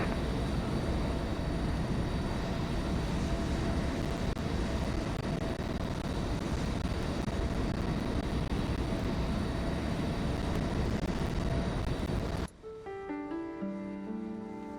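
Airbus airliner engines roaring steadily and loudly during a landing approach at a flight-simulator airshow, a continuous broadband jet rumble that cuts off abruptly near the end, replaced by quieter tones.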